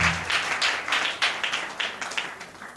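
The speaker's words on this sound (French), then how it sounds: "On applaudit sérieusement." Scattered applause at a school celebration, the 2021 mutual festival at CS St Daniel Comboni, rings out for students' exam results: a faint, irregular patter of many hands clapping with no talking.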